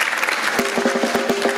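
An audience at a jurists' annual dinner breaks into brief applause, a short burst of scattered, fairly close clapping.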